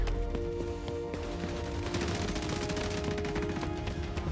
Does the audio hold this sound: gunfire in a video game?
yes